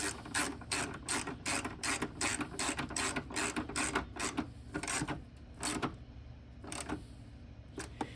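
A ratchet tightens a nut onto a stud while a brake booster is fitted on a third-generation Toyota 4Runner, giving quick runs of crisp clicks in bursts, then a few scattered single clicks near the end.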